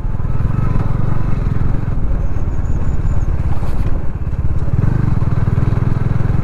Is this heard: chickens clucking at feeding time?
no